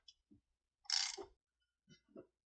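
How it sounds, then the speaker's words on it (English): A wrench tightens the rocker box bolts on a 1966 Harley-Davidson FL Shovelhead, giving a few quiet, separate metallic clicks and one short ratcheting burst in a quiet room. "I'm going to go ahead and just tighten these up to what I feel should be proper"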